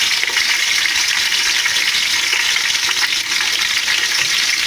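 Loud, steady sizzling of curry leaves frying in hot oil with green chillies for crab gravy, a dense crackling hiss that continues without pause.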